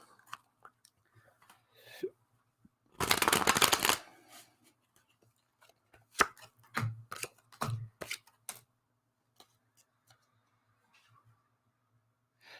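A deck of playing cards is shuffled close by in a quiet room, giving one dense riffling burst lasting about a second. Scattered light clicks and taps from handling the cards follow.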